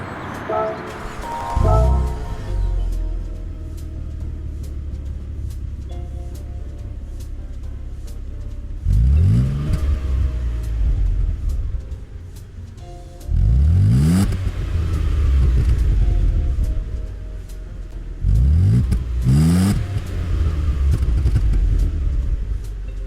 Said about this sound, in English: that funky little noise comes courtesy of the Renault Aventine